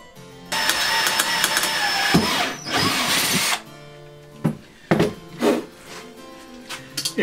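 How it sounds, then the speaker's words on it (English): A power drill bores a hole in annealed metal, loud and close, whirring steadily for about three seconds before winding down, then a few shorter bursts of drilling with pauses between them. "We're going to drill this out with a small drill bit and then go for a larger one to enlarge the hole"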